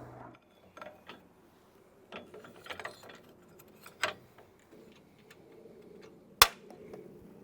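A wrench turns nylock nuts on tractor ROPS-mounted LED work light brackets, giving faint scattered ratcheting clicks and metallic taps with a sharp clank near the end, fairly close and without talk.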